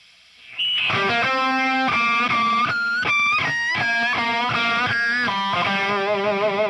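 An electric guitar plays loud chords through a J Rockett Audio El Hombre overdrive pedal turned up high, giving a gritty, biting, sizzling tone. Notes ring out one after another with no talking.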